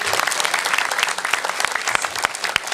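Lively audience clapping at a comedy show, a dense crowd of hands with a few sharper, louder individual claps popping out in an uneven rhythm, close and energetic throughout.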